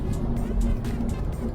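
A 1980s Porsche 911 engine is held at high revs above 5,000 RPM under hard acceleration, a loud, steady mechanical roar with a strong low drone throughout.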